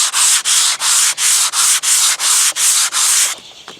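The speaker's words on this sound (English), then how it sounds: "It's the same 180 grit. I'll just be going in the X pattern back and forth." Block sanding a fiberglass dashboard repair on a Chevy Caprice with 180-grit sandpaper, about ten even back-and-forth rasping strokes in a steady close rhythm, stopping near the end.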